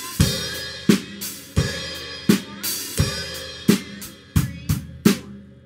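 Drum kit playing a groove: steady kick and snare backbeat with ringing cymbals and a hi-hat accent, loud and close, repeating over several measures without talk.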